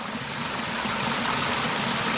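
Spring water flows out from underground at a farm and spring resort in Carmen, Cebu, giving a steady, dense rushing gush that stays close and constant throughout.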